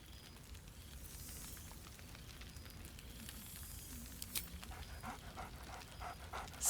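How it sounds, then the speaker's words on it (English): Dog panting steadily in the fantasy role-playing game Baldur's Gate 3, a quick rhythmic huffing close by with a brief sharper yelp near the end, no speech. "Scratch barks merrily in something like agreement."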